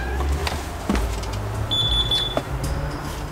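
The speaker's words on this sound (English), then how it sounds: "I didn't realize he had an alarm system." A home alarm system sounds inside a house, a steady high electronic beep tone over low rumbling room noise and a few scattered clicks and knocks.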